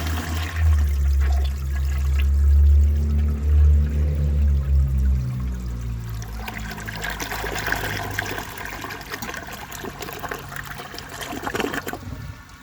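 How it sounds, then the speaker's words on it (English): A 1953 AllianceWare toilet flushes into a dry bowl with a loud, deep rush of water that eases into a long trickling refill, close and alone with no talking. "For the first flush test, let's see how it flushes with a dry bowl"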